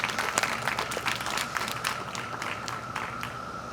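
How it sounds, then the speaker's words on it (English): Parents and guests at a fifth grade ceremony applaud the graduating class, a loud, dense wash of clapping with crisp individual claps near the front, continuous and slightly easing toward the end. "Let's give a round of applause to our fifth graders."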